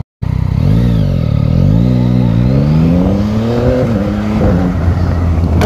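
A stock 2021 Yamaha MT-09 Euro5 motorcycle engine roars loudly up close, pulling hard from low revs with rising pitch through several gear changes, the engine note surging and dipping without pause.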